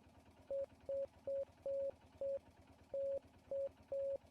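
Eight Morse code beeps from the game Martha Is Dead, a mix of short and longer steady mid-pitched tones spaced evenly over a low background hum, clean and fairly quiet.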